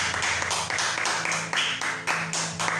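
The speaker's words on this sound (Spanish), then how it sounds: "Denle una ofrenda de aplauso al Señor." A church congregation claps in rhythmic unison, distinct sharp beats repeating about every quarter second, close and fairly loud, with a low tone humming underneath.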